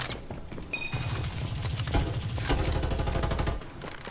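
Gunfire in the shooter Farlight 84, a sustained rapid burst of fairly loud shots in a steady rhythm, over busy game sound, stopping near the end.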